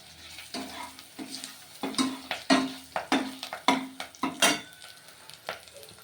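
Oil heating with chili powder and salt in a pan for horse gram rasam, a soft continuous sizzle broken by sharp clinks and scrapes of a spoon stirring against the metal.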